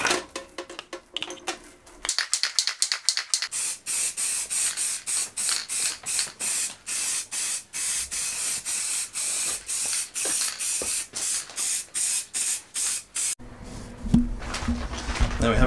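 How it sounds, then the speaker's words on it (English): Rapid bursts of aerosol spray paint, many short hissing pulses in quick succession, close and loud, with a few mechanical rattles between sprays. "Let's spray paint this bad boy."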